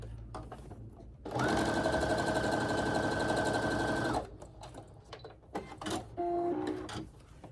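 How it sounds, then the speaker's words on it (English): A sewing machine runs in one steady, loud, whirring burst of about three seconds while stitching quilt strips end to end, followed by fabric handling and a few shorter mechanical whirs. "And now I can sew these 2 together end to end."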